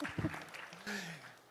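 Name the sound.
audience applause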